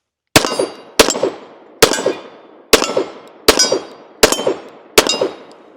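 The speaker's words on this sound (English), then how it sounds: "Let's go ahead and take a few more shots." Seven sharp gunshots from a Nighthawk Custom Colt M45A1 .45 ACP pistol, fired one after another at a steady pace of about one per second, loud and close, each with a short ringing tail.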